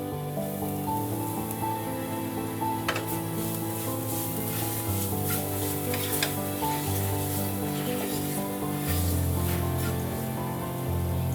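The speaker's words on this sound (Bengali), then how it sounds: "চালের গুঁড়োটা ঘিয়ের সঙ্গে খুব ভালো করে ভেজে নেব।" Rice flour and grated coconut fry in ghee for payesh, giving a steady, rain-like crackling sizzle throughout, with soft stirring scrapes mixed in.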